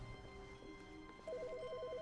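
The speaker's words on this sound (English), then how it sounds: "Oh, Oh, phone's ringing, dude." An in-game telephone in The Stanley Parable starts ringing with a rapid, alternating electronic trill after a quiet stretch of faint room ambience, clear but moderately soft.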